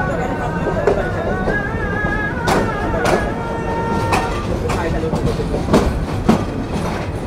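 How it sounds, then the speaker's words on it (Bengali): The intercity Kurigram Express pulls out of Dhaka Airport railway station with a steady, loud rolling rumble, rhythmic clickety-clack of wheels over rail joints and faint squeals, while a voice talks over it. "আন্তনগর কুড়িগ্রাম এক্সপ্রেস এখন ননস্টপভাবে যাত্রা করছে"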